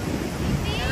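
Rushing water at Niagara Falls, a dense, steady roar mixed with wind buffeting the microphone.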